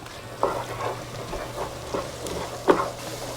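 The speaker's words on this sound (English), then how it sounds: "Now we'll add some flour. Let that cook out." Flour cooks in a pan with wine for braised short ribs, giving a low steady sizzle broken by soft scraping stirs and a couple of louder clatters, close and without voices.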